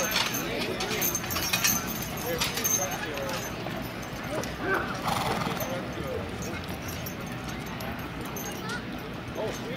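A draft horse team, 4,000 pounds combined, pulls at a fall fair horse pull, with hoof clatter, harness jangle and a whinny amid a busy crowd while an announcer talks throughout.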